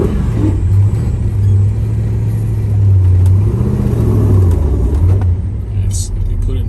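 A 1970 Chevrolet Chevelle SS396 big-block V8 revving close by, a loud deep rumble rising and falling through several throttle blips, with people talking over it.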